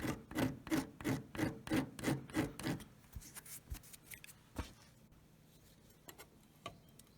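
A hand file rasps a burr off a small metal hammer part on a workbench, about eight close, even strokes in a steady rhythm, then a few light taps and scrapes before falling quiet.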